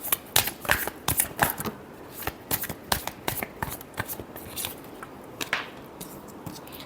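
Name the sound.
shuffling tarot cards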